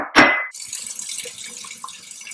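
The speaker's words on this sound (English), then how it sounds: "So this is the second time I'm applying water." Water is poured onto a sponge in a toy washing machine: a short sharp splash, then a faint steady trickle with soft drips as the sponge soaks it up.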